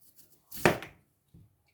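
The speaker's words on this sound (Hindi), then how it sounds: "उसके बाद इसको छोटे छोटे बारीक क्यूब्स में काटते जाएंगे" A knife cuts vegetables into small cubes for a mixed-vegetable raita, giving one sharp, close chop against the board followed by a fainter tap, with no one speaking.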